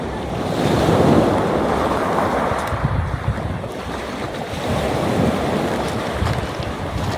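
Ocean surf rolls steadily onto the shore at a seaside spot in Lobo, Batangas, a continuous wash of breaking waves swelling and easing, with gusts of wind buffeting the microphone and no voices.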